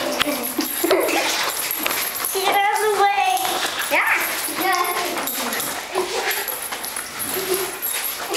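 Dogs playing with yips, whimpers and small barks, mixed with people talking and a bit of laughter nearby.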